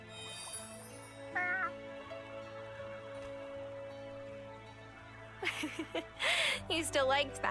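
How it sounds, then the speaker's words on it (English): Cat meows in the video game Wylde Flowers, short game-sound calls heard over steady background music, with a few brighter, louder bursts near the end. "Hey there, kitty."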